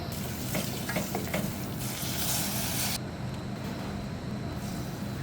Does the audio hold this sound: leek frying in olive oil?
yes